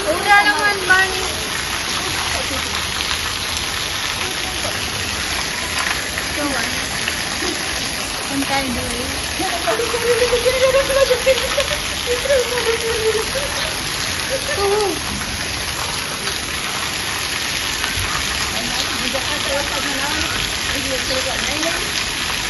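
Heavy rain pours steadily in a dense, hissing wash while people bathe and splash in it; voices and faint chatter rise now and then beneath the constant downpour.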